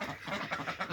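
A duck gives a quick series of rough, nasal quacks, faint and brief, heard on its own.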